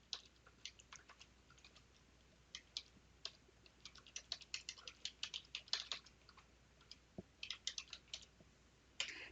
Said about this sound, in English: Let me type it in here.